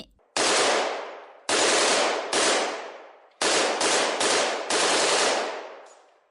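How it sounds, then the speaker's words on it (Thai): Loud bursts of gunfire in several long, harsh volleys with brief gaps between them, close and booming, each decaying into reverberation. "เสียงปืนอย่างรุนแรงราว กับประทัดแตกก็ดังขึ้นอย่างฉับพลัน"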